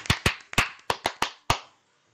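Seven sharp hand claps in an uneven rhythm, close and loud, with a short quiet tail after the last clap and no talking.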